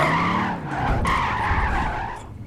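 Tires skid and squeal as a truck drifts in Gran Turismo 5, a loud continuous screech over a rumbling engine drone.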